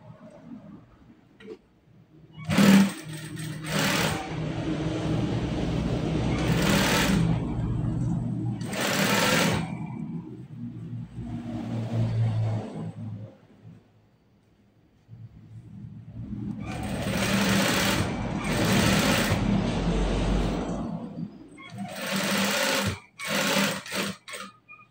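A sewing machine stitches a child's kindergarten school uniform shirt, running in several steady whirring bursts separated by short pauses, close and clear with no talk over it.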